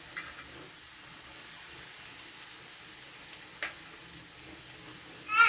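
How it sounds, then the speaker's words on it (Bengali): Poha (flattened rice) with vegetables is stirred in a frying pan: a soft, steady sizzle runs throughout, with a sharp utensil scrape midway and a brief clatter at the end. "একটু একটু দিয়ে আমরা এটাকে ঘাঁটতে থাকবো, যেন ভালো করে সবজিটা মিশে যায় চিড়ের মধ্যে।"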